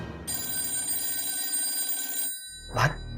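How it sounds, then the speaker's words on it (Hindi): A telephone bell rings in a steady, continuous trill indoors, then cuts off abruptly, followed by a short loud bump. "अरे ये फोन कब से बज रहा है, कोई उठाता क्यों नहीं?"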